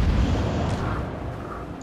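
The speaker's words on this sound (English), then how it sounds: "As shell after shell screams down around him." Heavy naval cruiser shells fire and explode in a warship video game, a dense, rolling low rumble of booms that fades slightly over under two seconds.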